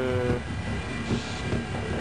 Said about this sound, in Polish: Naprzód, ty mój pociągu!